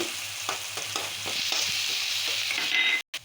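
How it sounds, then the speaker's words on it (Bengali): Onion paste sizzles and frying hisses steadily in a hot pan, with a spoon stirring it in soft, regular scrapes; the sizzle stays close and even, then cuts out briefly near the end. "পেঁয়াজ পেস্ট করে দিলাম, লাল লাল করে নেব।"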